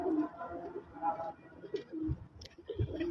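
A prized racing pigeon coos softly in a few low, rolling phrases, faint and close, against a quiet background.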